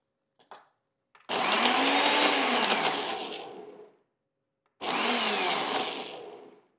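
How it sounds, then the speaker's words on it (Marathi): Electric mixer grinder blending cardamom, black pepper, ginger and yogurt into a paste, two loud whirring bursts, a long one of about three seconds and then a shorter one, after a few brief clicks, with no talk. "मोठी विलायची, एक साधारण 2 इंच आलं आणि 2 चमचे दही हे आपण एकत्र वाटून घेऊ."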